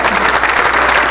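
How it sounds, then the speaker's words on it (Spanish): Dense, steady applause from a ceremony audience honoring a dean of the Instituto Politécnico Nacional, loud and continuous throughout the short burst with no voices on top. "Un aplauso"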